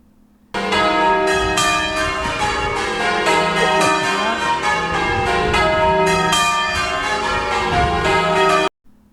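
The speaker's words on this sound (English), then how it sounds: "Chime of the church bells." Church bells from the peal in Rainham church tower ring in a dense, continuous chime for about eight seconds, loud and resonant with overlapping strikes, then stop abruptly.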